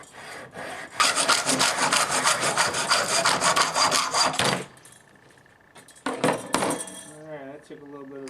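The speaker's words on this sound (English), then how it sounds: "I'm going to go ahead and cut that now." A hand saw cuts through a T astragal for a dual front door. Loud, rapid back-and-forth rasping strokes run for several seconds, stop, then return in a shorter burst of close, scraping cuts.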